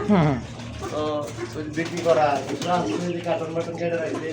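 Pigeons cooing at a pigeon sale, with healthy birds including red Bombai pigeons on offer; soft coos run near and steady beneath lively talk from sellers and buyers throughout.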